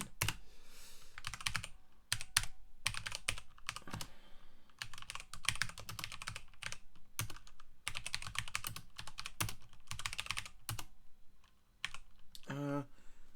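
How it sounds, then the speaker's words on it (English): Typing on a computer keyboard, quick clattering bursts of keystrokes with short pauses between them, close and clear with no talk. "And there's my god-awful typing again."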